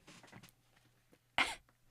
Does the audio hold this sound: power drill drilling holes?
no